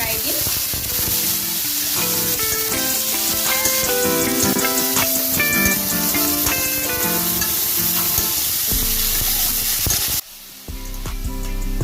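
Dried sea fish curry frying in a pan as it is stirred, a steady sizzle with scraping under a bright tonal musical backdrop that cuts off near the end.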